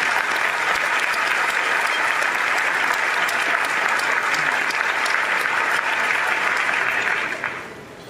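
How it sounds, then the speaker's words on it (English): A conference audience at a film industry panel breaks into loud, sustained applause that fills the room for several seconds, then quickly fades near the end. "How about a round of applause?"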